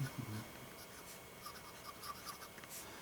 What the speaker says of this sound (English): Now, you hear that feedback on this nib? It is a 14 karat gold nib.